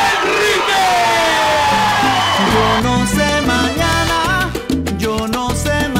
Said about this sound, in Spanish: Recibamos con un fuerte aplauso desde Nicaragua a, para el mundo,